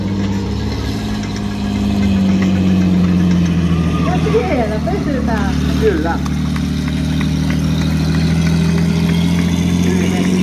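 A car engine idles and runs steadily through a stunt show in Hämeenlinna, a low continuous drone with a brief rise in the middle, heard under ongoing commentary from someone speaking nearby.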